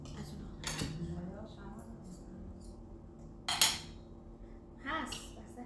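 Forks and plates clattering while macaroni is served at home, sharp metallic clinks and scrapes of cutlery on dishes in scattered bursts, close by, under ongoing conversation.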